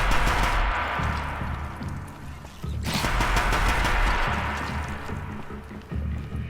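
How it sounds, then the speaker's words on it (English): Rapid bursts of gunfire from the video game Horizon Zero Dawn, loud and sustained, with a brief lull in the middle before the shooting resumes. "They hear a gun going off"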